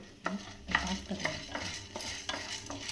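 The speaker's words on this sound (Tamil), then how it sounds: "இது இப்போ கருப்பு உளுந்துல நம்ம வறுக்கிறோம்" Black urad dal roasting dry in a pan and stirred steadily, making a close, rhythmic scraping and rattling of grains under a spoon, repeated every half second or so.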